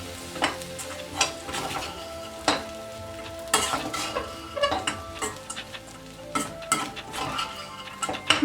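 Aval upma being stirred in a pan with lemon juice after the stove is switched off: repeated close scraping and clinking of a spoon against the metal, irregular in rhythm, under a faint residual sizzle.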